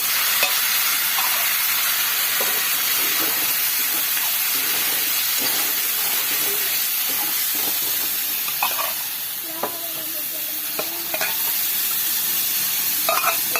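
Chana dal and peanuts frying in a hot pan give a steady, close sizzle and hiss, with scattered clinks and scrapes of stirring breaking through the continuous crackle.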